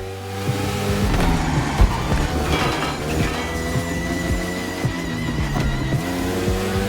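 A Ducati Panigale motorcycle in The Crew Motorfest is ridden hard through a dark, gritty city, its loud engine revving continuously with rising and falling pitch and occasional sharp transients, with no talking.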